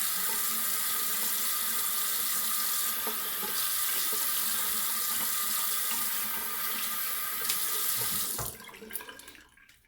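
Tap water running steadily into a sink while rinsing after a wet shave, a loud, constant hiss and splash that cuts off near the end, leaving a few faint drips and handling noises.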